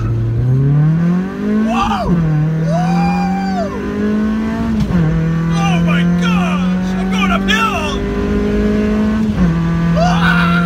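A Honda CB7 pulls hard from a standstill: a loud, close engine note climbs steadily, drops briefly about three times and climbs again, with a short exclamation from the rider over it.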